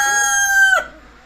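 A native desi rooster crows once, loud and close, its drawn-out call ending abruptly into quiet.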